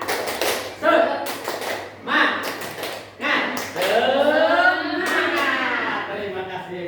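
An audience performs a rhythmic 'tepuk semangat' group clap, with sharp bursts of claps in a patterned sequence mixed with chanting voices.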